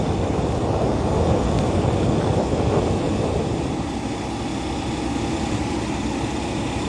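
The air-conditioning fan blows hard inside the cab of a 2006 Hyundai Porter diesel truck with a manual gearbox, a steady, fairly loud whoosh of airflow over a constant low engine hum, with no talking.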